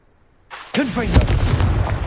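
Confringo fire-blast spell in the game Hogwarts Legacy: a sudden loud explosive burst after near silence, followed by a crackling, rumbling blast that sustains and tails off.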